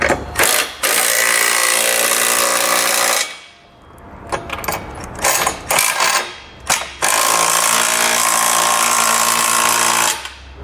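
Trailer hitch hardware on a 2020 Chrysler Pacifica is run down with a 19 mm socket: loud bursts of rattling impact-gun hammering, a pause with scattered clanks, then another long sustained burst, close and dominant.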